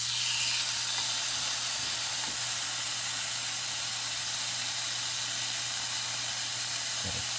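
Marinated galbi short ribs sizzling in a hot pan, a steady loud hiss and crackle with no break, plus a low constant hum and a couple of faint knocks.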